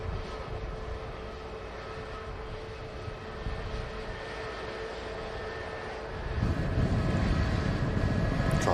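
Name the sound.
Ryanair airliner arriving at Manchester Airport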